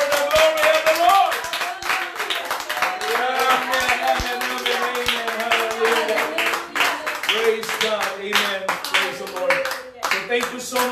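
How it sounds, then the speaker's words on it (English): A church congregation claps hands together in a lively, dense rhythm during worship, with singing and voices mixed in throughout. "Clap your hands for the glory of the Lord."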